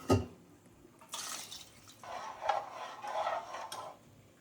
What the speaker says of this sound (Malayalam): ഇത്രയും വെള്ളം കൂടെ ഒരു 1/2 ഗ്ലാസ് കൂടെ ഒഴിക്കുന്നു.